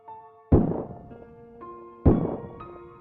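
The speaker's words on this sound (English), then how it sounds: "Two gunshots sounded from inside the exam room." Two sharp gunshot-like bangs as a sound effect inside an exam room, each a heavy close thud with a ringing decay, spaced about one and a half seconds apart over faint tonal music.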